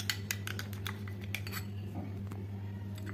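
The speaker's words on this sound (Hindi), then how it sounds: "अब हम इसको अच्छे से मिक्स कर लेंगे इन सब चीज़ों को।" A potato peel-off face mask stirred in a bowl, giving a run of light clinking scrapes of a utensil against the bowl over a steady low hum.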